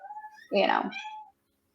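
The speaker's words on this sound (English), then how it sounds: "Here comes the cat." A cat meows once, loud and close, a drawn-out call during a podcast recording, with faint voices murmuring before it and silence after.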